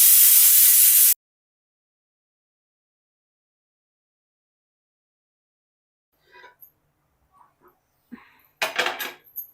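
Water sprinkled onto a bhakri flatbread on a hot griddle gives a loud, sharp sizzling hiss lasting about a second, then silence, followed by a few faint clinks and scrapes of cookware.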